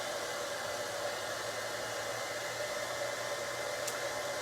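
An embossing heat tool blows a steady, loud hiss of hot air as it warms up for vellum, an unbroken airy roar that stays close throughout with no talk.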